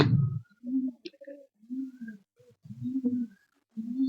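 Madras pigeons coo in a close series of soft, low, rolling calls with short gaps between them, alone with an occasional faint click.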